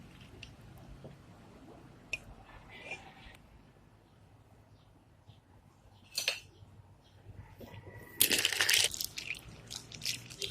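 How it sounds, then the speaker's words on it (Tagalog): Instant coffee mixture poured over a glass of ice for iced coffee, with faint clinks and ice crackling early on, then sharper cracking and a bright splashing pour near the end. "Pour the coffee mixture to the glass of ice"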